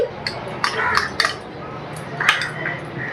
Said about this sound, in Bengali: এই যে বড় চামচের 2 চামচ টক দই নিচ্ছি।